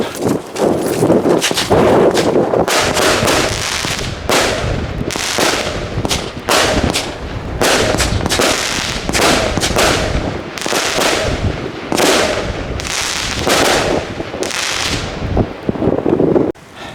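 A BAJKAL KOMETA P7060 firework launcher firing its 16 shots outdoors, loud sharp bursts coming in a rapid, irregular series across the whole stretch with brief gaps, some wind noise on the microphone.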